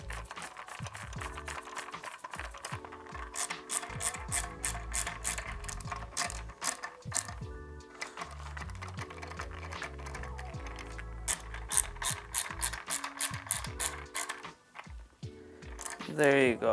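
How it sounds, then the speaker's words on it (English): Screws being driven back into the brackets of an Apollo Go scooter during a hook lock button replacement, giving long runs of rapid ratcheting clicks that stop and start in bursts, close up and fairly loud. "Now we'll put the 4 screws back on the brackets."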